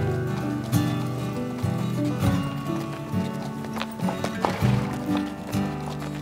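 Young horses' hooves clip-clop in uneven steps, mixed with music and other sounds from a family TV series about animals.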